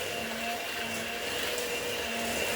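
Outdoor grass cutting by yard workers comes through as a steady, noisy motor drone with a faint whine, continuous and moderately loud, heard from indoors.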